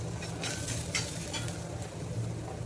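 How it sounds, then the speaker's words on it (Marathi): Onion and garlic frying in a pan give a soft, steady sizzle, broken by the light scrapes of a spoon stirring, with no voices. "कांदा आता चांगला भाजून घेणार आहे. याच्यात ना लसूण टाकते मी आता."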